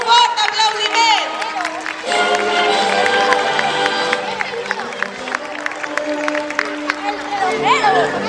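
Applause and cheering from the audience at a Tirisiti puppet show, with loud, sustained clapping and excited voices calling out over it for the whole stretch.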